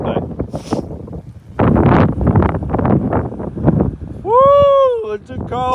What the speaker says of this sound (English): It's a cold, windy day today.